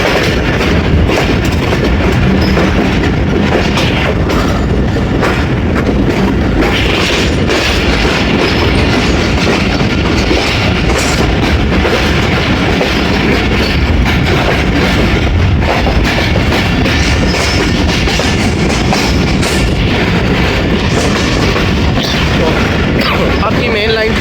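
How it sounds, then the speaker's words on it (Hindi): Tezgam Express 8 Down train pulling out of Rawalpindi railway station, a steady loud rumble of rolling wheels and carriage noise filling the whole stretch, with broad clatter throughout. "सांप की तरह बल खाती हुई ट्रेन हमारी"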